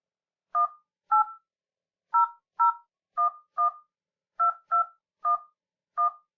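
A mobile phone keypad sends ten clean DTMF dialing beeps in quick pairs with short gaps between them while a toll-free bank number is entered, each tone crisp and isolated against silence.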